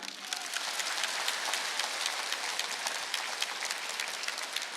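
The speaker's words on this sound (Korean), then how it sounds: "왜 박수 안 쳐?" A crowd at a church evangelistic meeting in Daegu claps in a dense, hissing patter that sounds like rain, steady and moderately distant, with no speech over it.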